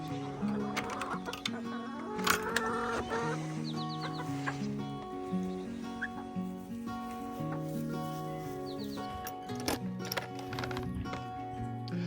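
Chickens cluck inside a messy homestead chicken coop, a steady run of overlapping clucks and squawks that carries on for the whole stretch at moderate loudness, with other barnyard noise mixed in.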